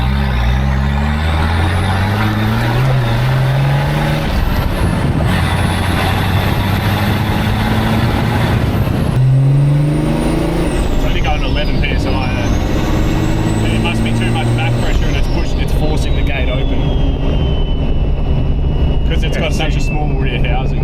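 A Nissan TD42 turbo diesel engine revs and drives, rising and falling through its gears with a loud turbo whistle and spool sweeping over a deep engine drone, close and continuous.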